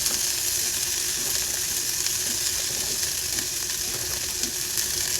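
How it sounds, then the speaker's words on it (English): Onions sizzle and fry steadily in a hot pan, a dense, continuous crackling hiss that stays loud and close throughout, with no talking. "Let's just get hot. Put your onions in."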